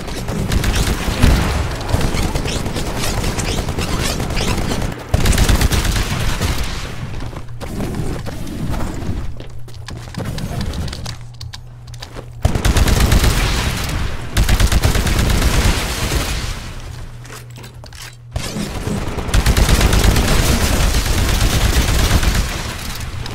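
In the video game Titanfall, an anti-Titan weapon fires at a Titan: loud, sustained heavy gunfire and booming blasts in long stretches, broken by short quieter gaps.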